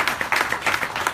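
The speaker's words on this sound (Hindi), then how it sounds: "इसलिए आप सभी के लिए जो ताली बजा दो" An audience at an evening Hindi religious talk claps briefly, quick irregular hand claps close by for about a second.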